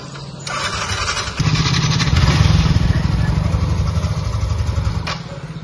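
A motorcycle engine runs close by, a steady rumbling drone that swells louder partway through and holds, with faint talk around it.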